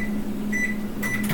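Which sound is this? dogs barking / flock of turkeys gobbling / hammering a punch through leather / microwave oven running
microwave oven running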